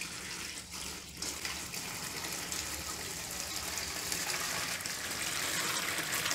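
Homemade soap mixture made from used cooking oil pours steadily into a box mold, a continuous watery gush and splash heard close up and alone at moderate level.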